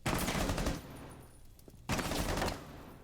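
Rapid bursts of gunfire in a Rainbow Six Siege esports match, loud and dense for most of a second, then a lull and a second sustained volley, with no talk over it.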